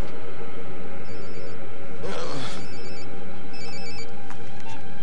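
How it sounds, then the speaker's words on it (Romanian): A telephone rings in an animated cartoon scene, a short burst of electronic trills repeating over a steady background hum, fairly loud, with a brief noisy swell partway through. "Jim, de ce răspunzi tu la telefonul lui Ulrich?"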